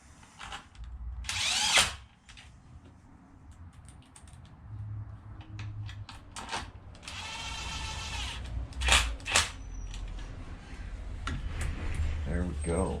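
A power drill drives bolts into the motor of a Losi DBXL RC car fitted with a 32cc engine. It whirs in short, close bursts, mixed with small clicks and metallic handling noises in a quiet room.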